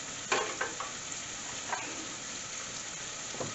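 Garlic and chopped thyme leaves fry in a pan for jerk rice, a steady crackling sizzle broken by a few clinks and scrapes as they are stirred.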